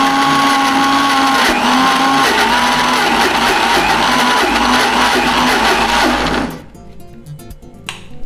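A mixer grinder grinds soaked urad dal into batter for medu vada, a loud steady whirring motor with rising and falling tones that runs for about six seconds, then cuts off, leaving a quiet room.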